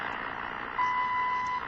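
A steady electronic time signal beep on 10 MHz shortwave in AM mode sounds for under a second over a bed of hissing radio static, close and clear.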